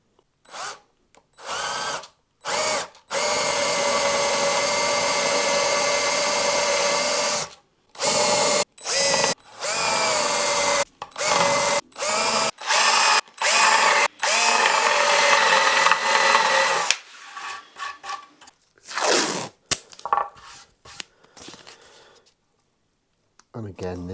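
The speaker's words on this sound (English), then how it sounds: "and break out the drill again" An electric drill whirs in repeated bursts while drilling a Telecaster guitar body, some bursts long and some short, with brief pauses between them, close and loud.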